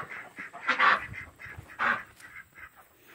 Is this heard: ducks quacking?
yes